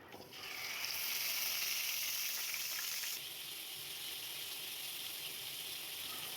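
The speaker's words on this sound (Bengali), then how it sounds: "মাছের টুকরোগুলোকে এক এক করে দিয়ে দিচ্ছি।" Pieces of chitol fish dropped one by one into hot mustard oil in a kadai, giving a bright, hissing sizzle that swells strongly, then settles into a steadier, slightly quieter fry, heard close with no talking.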